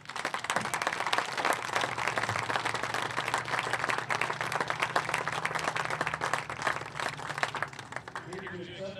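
An outdoor audience at a Legion baseball doubleheader applauds a hometown hero award, with steady, sustained clapping from a crowd, fairly distant and even, and a few voices mixed in.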